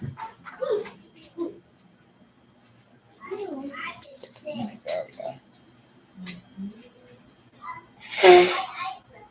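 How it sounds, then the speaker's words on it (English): A single sharp human sneeze near the end, loud and close, after stretches of quiet talk. "It just started sneezing."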